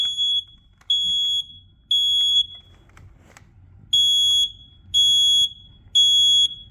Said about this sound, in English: Yep, this one only does 3 beeps, which is unusual because this one does 16 beeps.